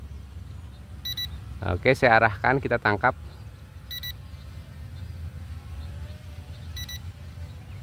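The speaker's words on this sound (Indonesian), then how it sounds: "ada indikator ya bunyi bip bip di remote jadi kita tahu kalau baterainya mau habis" Three short bursts of high electronic beeping from a drone remote's low-battery warning repeat at a steady interval, spaced a few seconds apart, while someone speaks briefly over a low background hum.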